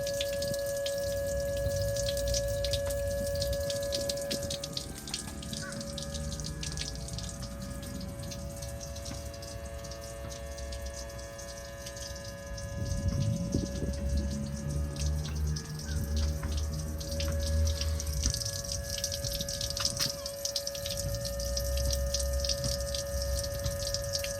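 A Sea-Doo OEM bilge pump discharging water, producing a continuous splashing, trickling flow with a steady tonal whine behind it, growing heavier and gushier partway through.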